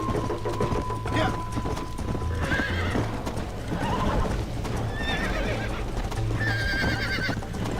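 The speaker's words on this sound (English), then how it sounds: "Now the horse is really slow" A horse in Red Dead Redemption gallops with rapid rhythmic hoofbeats and lets out several loud neighs and whinnies, heard over game music and under a player's talk.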